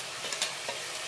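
Ground masala being stirred into a pressure cooker, frying for Bengal gram sambar, gives a soft continuous sizzle with a few brief scraping clicks of the spoon, close and quiet.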